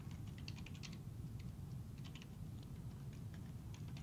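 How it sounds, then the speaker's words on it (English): A computer keyboard being typed on for a message: soft, quick clusters of key clicks in uneven bursts, close but fairly quiet over a steady low background hum. "I might type a message like"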